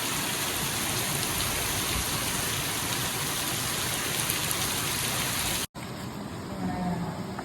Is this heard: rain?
yes